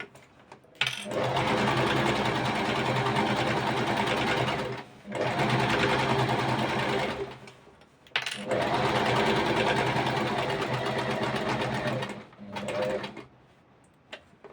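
A sewing machine runs steadily along the edge of a cushion cover, stitching a half-centimetre seam in long, loud, close bursts with short pauses between them.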